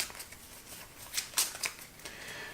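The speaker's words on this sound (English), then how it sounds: "So I kind of get a free shuffle." A deck of cards shuffled during a tabletop game of Witches of the Revolution, a brief riffle of soft papery flutters with a few sharper snaps, close and fairly quiet.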